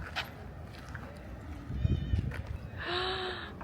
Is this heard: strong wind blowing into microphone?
no